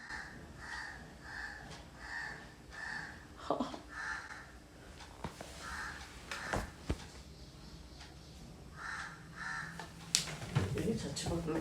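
A crow caws repeatedly nearby in a steady series of harsh calls, with a few clatters and bumps in between and someone talking at times.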